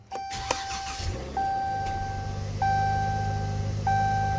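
A flood-damaged Ram pickup truck comes to life: a couple of clicks and a key-on chime, then the engine cranks and catches into a low steady idle while warning beeps repeat every second or so.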